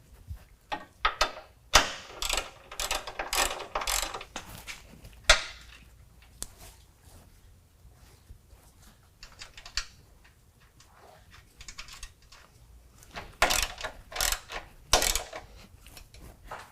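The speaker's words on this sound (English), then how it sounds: "Now the pinch weld bolts are all tightened down." A ratchet tightens the pinch weld bolts on a Jeep Wrangler rock slider. Bursts of close clicking come in uneven runs, separated by quieter handling noises.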